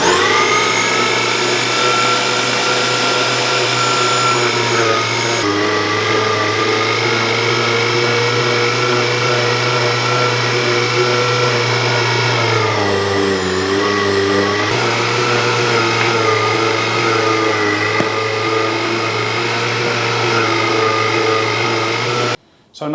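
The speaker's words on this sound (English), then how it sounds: "I'm just going to grind this all up" An electric meat grinder runs continuously, grinding sausage meat for South African droewors with a loud, steady motor drone that dips in pitch briefly midway as the meat loads it, then cuts off at the end.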